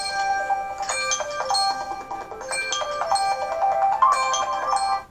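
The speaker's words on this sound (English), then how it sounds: "my phone will go beepity beepity beep any moment now" Electronic phone ringtone plays alone, a bright, repeating beeping melody in regular bursts of rapid tones, fairly loud and close, with no talking.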